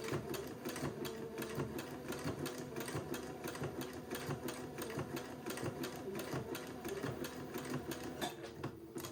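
A sewing machine runs a continuous zigzag stitch along a folded fabric edge, producing a steady fast mechanical chatter with rapid rhythmic needle thumps, close and consistent throughout.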